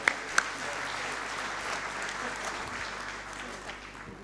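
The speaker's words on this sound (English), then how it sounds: "it's only fitting that we give them another round of applause" Steady applause from the audience at a KEPSA 10th anniversary celebration honouring the directors, opening with two sharp claps before settling into a sustained, even wash of hand-clapping for several seconds.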